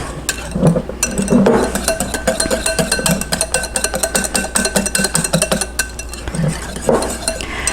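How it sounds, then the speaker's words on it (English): A whisk beats paprika and garlic powder into a whipped salad dressing in a bowl, making rapid, steady metallic clinks and stirring scrapes that run close and fairly loud for the whole stretch. "a nice pinch of garlic powder. And I'm going to whisk those in."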